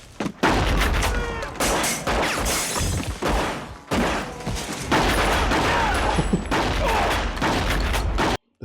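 Dense, loud gunfire from an ambush scene in the 1997 film L.A. Confidential, with rapid overlapping shots and crashing impacts filling the whole stretch almost without pause.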